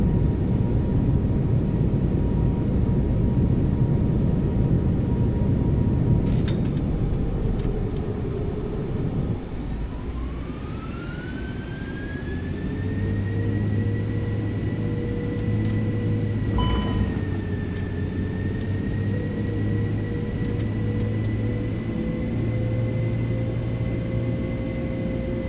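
iniBuilds A330-200 airliner in MSFS2024 under reverse thrust: a loud broadband engine roar that eases, then a whine that slides and holds steady while a low hum persists.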